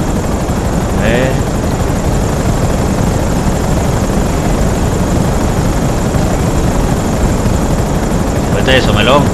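Helicopter rotor in a vehicle-themed video game, a steady loud broadband whir running throughout, with brief chirpy game effects near the start and end and faint voice over it.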